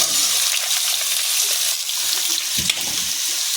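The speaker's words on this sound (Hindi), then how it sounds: "अब इसमें आलू डाल दें।" Potatoes go into a pan of frying fenugreek leaves, peas and soya chunks, giving a loud, dense, continuous sizzle with a brief shuffling disturbance near the end as they land; no talking.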